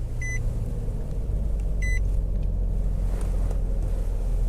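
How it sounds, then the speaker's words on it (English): A 2018 Nissan Frontier Pro-4X V6 crew cab truck starts with two short electronic dash chimes, then a steady low engine rumble fills the cab, close and fairly loud, with no talking. "And you start up the truck just like you'd expect."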